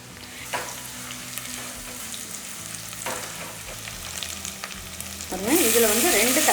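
Small onions with a little turmeric frying in a pan for a dried-fish curry, a steady close sizzle with occasional stirring scrapes, swelling into a louder, hissing fry near the end.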